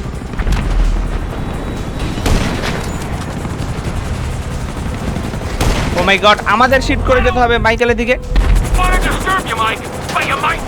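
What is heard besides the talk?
gunfire attacking helicopters in video game GTA 5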